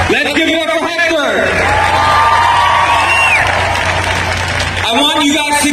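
An outdoor crowd at a rally for equality in Cadman Plaza Park, Brooklyn, cheers and applauds for Hector, with sustained whoops and rising whistles over a steady roar that swells and then eases slightly.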